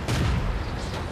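A single deep cannon boom from a Soviet T-150 heavy tank in World of Tanks hits and rolls out in a short, rumbling decay.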